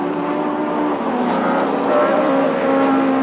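A Ford touring car in 1990 British touring car racing at Silverstone roars along the club straight, its engine note loud and sustained with shifting pitch as it passes close by, alone without commentary.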